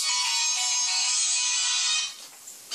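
A phone ringtone plays during a plumbing lesson on wrapping Teflon tape, a bright buzzy electronic tone held steadily for about two seconds before cutting off abruptly.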